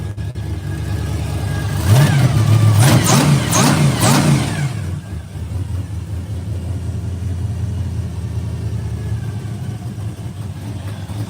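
A 1968 Pontiac LeMans engine fitted with a Pete Jackson gear drive and a blower revs up in several quick rising and falling surges, then drops to a rough rumbling idle, loud and close, with no talking.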